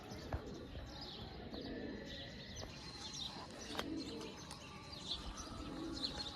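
Pigeons coo softly now and then amid a dense outdoor backdrop of chirping birds, with a steady hiss of ambient noise throughout.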